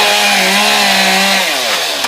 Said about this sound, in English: Chainsaws were buzzing for hours on Victoria Street